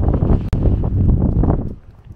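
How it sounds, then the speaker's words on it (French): Strong wind buffets a camper van on a road trip toward Fort Stockton, Texas, a loud, continuous broadband roar with gusty swells that eases slightly near the end. "trop de vent"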